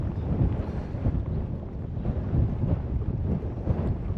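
Steady wind rumbles and buffets the microphone, a constant low roar without pause and no voices.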